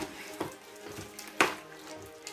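Leg of lamb being stirred in a pot, a faint sizzle under a few separate knocks and scrapes of a spoon, one sharper clatter midway.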